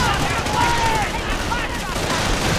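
Machine gun fire from the World War II strategy game Company of Heroes, a dense continuous rattle of gunfire mixed with battlefield noise and shouted voices throughout.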